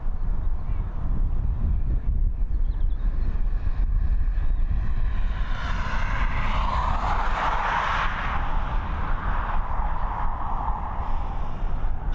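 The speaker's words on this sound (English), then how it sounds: "Our next departure is indeed going to be this Air France. We'll pick her back up in a minute. She's heading over to Charles de Gaulle. It's an Airbus A320." Air France Airbus A320, 13 years old, departing Dublin Airport, a broad jet engine roar swelling toward the middle and staying loud throughout, with steady wind rumble underneath.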